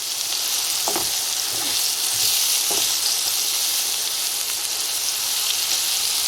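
Small fish deep-frying in hot oil, a dense, steady bright sizzle and crackle close up, with a few soft knocks near the start and no voices.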